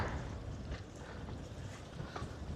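Wind buffets the microphone in a steady low rush, with harbor water washing and lapping softly underneath on a cold afternoon in Ponta Delgada, São Miguel, Azores; no voices.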